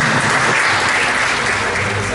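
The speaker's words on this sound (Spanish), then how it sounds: "Recibamos con un fuerte aplauso" Audience applause welcoming a lecturer at a conference for a diploma course on oral hearings under the new criminal procedure code: dense, steady clapping from a full room, with a voice underneath.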